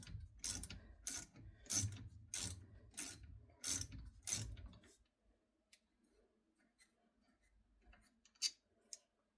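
A ratchet wrench loosens the caliper pins on a car's brake during a pad change, giving six quick, close clicking bursts in an even rhythm, then near silence broken by two faint metallic ticks.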